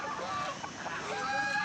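Chickens cluck and squawk close by in a village house yard, a busy overlapping flurry of calls with a low voice faintly underneath.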